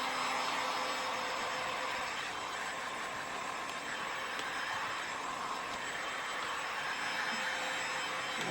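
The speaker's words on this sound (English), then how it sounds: "If you do not have a heat gun, you can use a blow dryer." A blow dryer or heat gun heats a small homemade gift bag, giving a steady, loud broadband whooshing roar that holds constant throughout with no talking.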